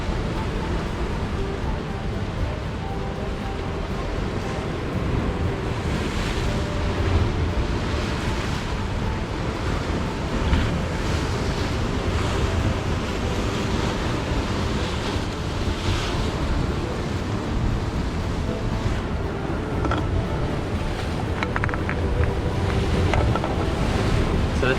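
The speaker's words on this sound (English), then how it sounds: "I'm literally standing on the cliff right next to the ocean. We're getting the sea breeze" Ocean surf rolls and crashes below a seaside cliff in New Zealand while a steady sea breeze buffets the microphone, a constant broad roar with periodic swells over nearly twenty-five seconds.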